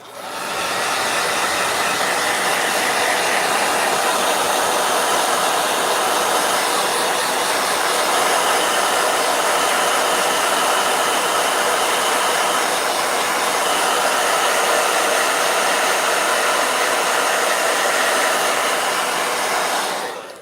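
A handheld blow dryer runs continuously at close range, a loud steady whooshing roar with no pauses or voices.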